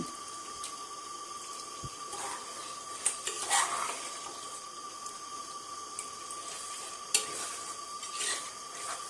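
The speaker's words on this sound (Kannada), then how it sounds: "ನೋಡ್ರಿ ಫ್ರೆಂಡ್ಸ್ ಈ ತರ ಮಸ್ತಾಗಿ ಫ್ರೈ ಮಾಡ್ಬೇಕು" Biryani masala frying in a pan gives a continuous, moderate sizzle, while a spoon stirs it with intermittent scraping and clinks against the metal.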